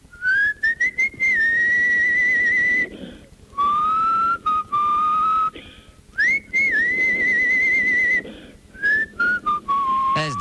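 Someone whistles a series of rising and sliding tones in short phrases separated by brief pauses, close and clear with no talking.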